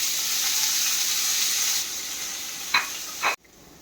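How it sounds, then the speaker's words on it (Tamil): Two large chopped onions sizzle in hot oil with a steady, loud hiss, a couple of brief stirring scrapes near the end before the sound cuts off sharply. "நம்ம எடுத்து வச்சுருந்த 2 பெரிய வெங்காயம் கட் பண்ணி வச்சுருக்கோம், அதையும் சேர்த்து வதக்கலாம்"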